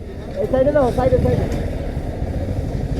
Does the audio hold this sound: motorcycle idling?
yes